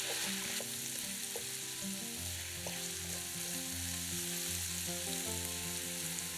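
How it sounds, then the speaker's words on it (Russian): Onion and mushrooms fry in vegetable oil with a steady, soft sizzle, and low hum and occasional light stirring clicks sit beneath it throughout. "Обжариваем лук с грибами примерно 2-3 минуты."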